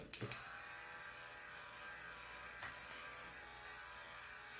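An electric facial cleansing brush runs with a steady, faint, even buzz that continues throughout, marked by a couple of soft knocks near the start and one brief bump midway, with no talking.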